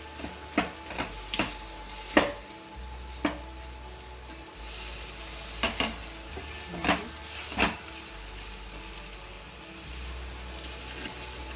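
Onion frying in hot tempering oil for Malvani-style onion sambar, a faint steady sizzle beneath a series of sharp scraping stirs and taps against the pan, close and intermittent, with no talking.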